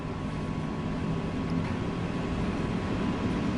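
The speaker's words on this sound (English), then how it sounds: "It's a pretty loud train this one" A loud German train locomotive in Train Sim World 2 drones on steadily, a dense continuous low rumble with broadband noise that stays even throughout, with no voices over it.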